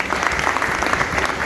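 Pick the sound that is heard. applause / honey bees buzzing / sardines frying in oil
applause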